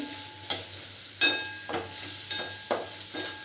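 Capsicum frying briskly in oil over a high gas flame for soya chilli, giving a continuous bright sizzle broken by regular sharp clanks of a spatula stirring in the pan.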